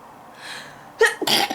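A single person sneezes: a soft breathy intake, then two sharp, loud bursts close to the listener.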